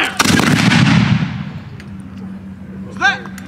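A single loud flintlock musket blast during a colonial drill, its report decaying over a second or two before a shouted voice follows.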